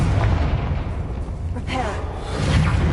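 A Confringo blasting spell bursting in the Hogwarts Legacy video game: heavy rumbling explosions and crackling impacts, loud and sustained, with game noise and a voice underneath.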